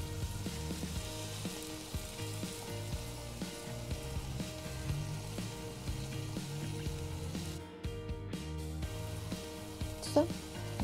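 Meat frying on a Weber Go-Anywhere charcoal grill gives a steady, close sizzle that holds through the whole stretch, with a low rumble and a few brief clicks and knocks underneath.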